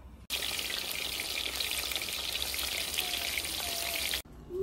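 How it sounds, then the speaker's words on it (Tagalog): Bullet tuna fish fries in hot oil with a steady, dense sizzle and crackle, loud and continuous, starting abruptly and cutting off near the end. "Ito yung prituhin kong isda. Tulingan."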